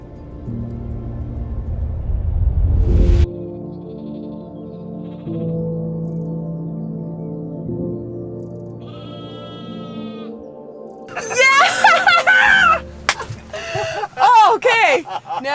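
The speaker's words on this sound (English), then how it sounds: "The sheep now are walking into the pastures" Sheep bleating out in the Icelandic highlands as a flock walks into the pastures, several calls heard at a moderate distance between stretches of wind or engine hum and people talking.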